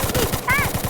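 Rapid automatic gunfire from the mobile shooter game Free Fire Max, a quick run of evenly spaced shots in under a second, overlapped by a brief voice.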